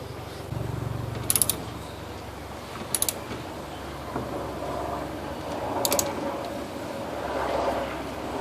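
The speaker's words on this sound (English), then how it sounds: "Each click on this torque wrench is 12 inch-pounds or 1 foot-pound" A torque wrench clicks as it reaches its setting while working on a 2006 BMW 325i E90: three short double clicks spaced a second or two apart, close by, over a low mechanical background.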